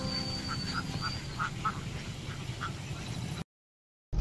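A flock of ducks by a roadside near Kakinada gives a series of faint, short quacks, about nine in a loose rhythm, over a steady outdoor hum before the sound cuts out.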